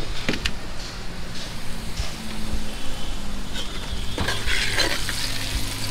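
Tomatoes hitting a hot frying pan inside a truck cab, a loud steady sizzle with scraping stirs and occasional metallic clinks of the utensil against the pan, no talking.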